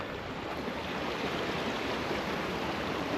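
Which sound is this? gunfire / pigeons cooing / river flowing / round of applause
river flowing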